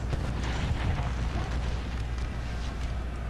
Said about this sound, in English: Redirect our cannon fire all over here.